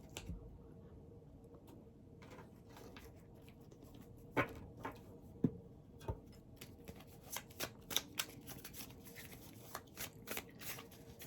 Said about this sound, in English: But let's pull some tarot cards.